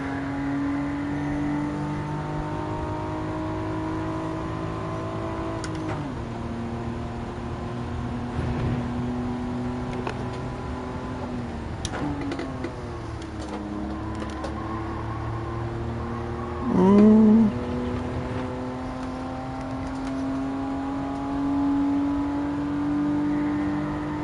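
Car engine revving in the racing game Gran Turismo 7, a sustained close engine drone rising and falling through gear changes, with a brief louder burst midway and no speech.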